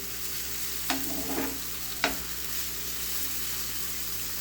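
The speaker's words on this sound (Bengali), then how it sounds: "পেঁয়াজটা কিন্তু ঠিক এরকমই ভেজে নেবো" Onions frying in a pan, a constant close hiss of sizzling oil with two sharp spatula knocks against the pan.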